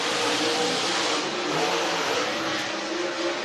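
Super Late Model race cars lap a speedway during qualifying with a loud, continuous roar of engines that rises and falls as the cars accelerate past.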